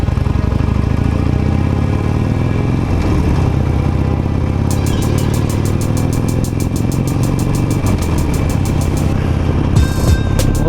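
A sixteen-year-old Harley-Davidson Nightster with nearly 50,000 km on it roars steadily while being ridden, its loud engine rumbling continuously up close with some rushing wind and a fast ticking near the end.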